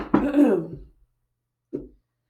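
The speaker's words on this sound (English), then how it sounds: "I have to keep clearing my throat" Someone clears their throat once with a rough, rasping rumble, then after a short pause gives a brief second grunt.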